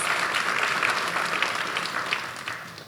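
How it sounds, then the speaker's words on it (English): An audience applauds the film crew at an evening screening event on Black infant health, steady dense clapping filling the room throughout, close and fairly loud, tapering slightly at the end. "Please give the entire crew another round of applause."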